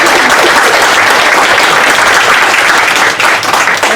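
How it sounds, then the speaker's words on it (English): Audience at a panel on educational justice and incarcerated people breaks into loud, dense applause, a continuous wash of many hands clapping close up that dips slightly near the end. "You can give them a clap for that."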